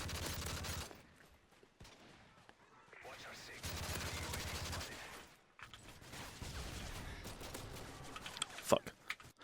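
Bursts of rapid SMG gunfire in a video game, several loud volleys separated by brief gaps, with a quieter stretch of scattered shots and a player's voice over them.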